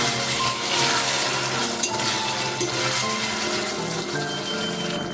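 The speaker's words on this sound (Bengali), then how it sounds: "আলুটা আগে দিয়ে মশলার সাথে কষিয়ে নিচ্ছি।" Potatoes sizzle and fry in hot oil with ground cumin and spices for a taro root and prawn curry, a loud steady crackle with occasional clinks of a spoon stirring against the pan, no talking.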